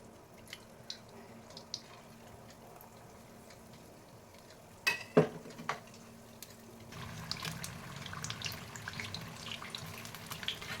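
Chilli bajji fritters coated in batter go into hot oil: a few faint drips and clinks, a sharp splash midway, then a steady bubbling sizzle that grows and holds to the end.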